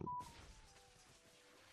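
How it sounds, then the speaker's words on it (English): Short electronic phone beep right at the start, a clear steady tone sounding behind a video game session, then fading into a low background hum. "a little phone beeping in the background there"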